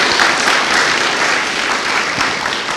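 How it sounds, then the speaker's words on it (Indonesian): Studio audience applause on an Indonesian talk show, a steady loud wash of many hands clapping together for a few seconds, close and filling the room, with no talking over it. "Kita berikan aplaus dulu dah ya."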